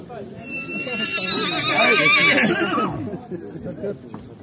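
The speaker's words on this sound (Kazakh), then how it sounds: "O'spirimlarni taylarni bir ko'rsatyapti." A young horse at the Sokuluk horse market gives a long, loud whinny that rises and falls, with faint hoof clops and people talking nearby.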